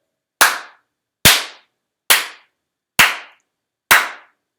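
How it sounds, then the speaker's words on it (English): Five single, sharp hand claps in an even, deliberate rhythm during a clarinet lesson, each one crisp and isolated with silence between them. "So let's do this with clapping."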